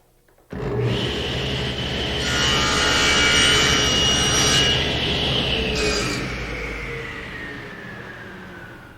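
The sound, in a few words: table saw mitering wood ends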